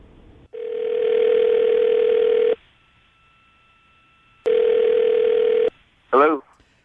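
A telephone dial tone sounds loudly as a call is placed, a steady tone for about two seconds, then silence, then the tone again, followed by a short burst of dialing.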